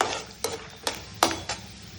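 Cumin, mustard seeds and peanuts sizzle in hot oil, giving a continuous close hiss broken by four sharp spoon strikes against the pan.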